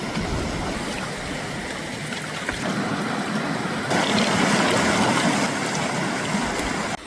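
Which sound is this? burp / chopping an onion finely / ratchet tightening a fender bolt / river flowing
river flowing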